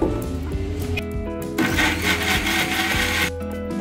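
A kitchen mixer grinder blends spice paste with a little water, its motor whirring loudly and steadily, rising into a harsher grinding roar midway before easing back, with no talk over it.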